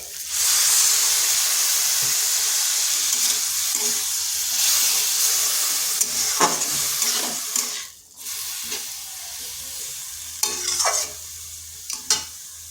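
Water splashed into a hot pan of frying spices for a papaya dish gives a steady, loud hissing sizzle with steam that runs throughout, with stirring scrapes and brief dips in between.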